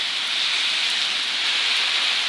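Steady rain falls on a trail in New Hampshire, a dense, even hiss of drops close by, continuous and fairly loud until it cuts off at the end.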